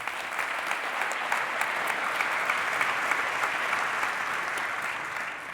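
An audience at a business awards ceremony in Geneva claps steadily and evenly throughout, a full sustained round of applause with no talk.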